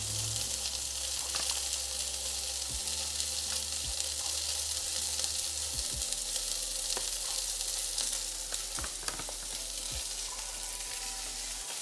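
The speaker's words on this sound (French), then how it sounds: "Donc là, on grille notre viande de chaque côté. Voilà, on la fait bien griller." Beef sears in a hot pan with a constant close sizzle and scattered sharp pops and spatters over a low steady hum, no voices.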